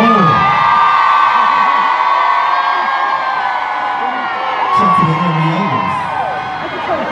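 Concert crowd at a show in Chicago, a continuous loud wash of cheering, whoops and yelling that holds steady throughout, with a brief surge of shouting near the end.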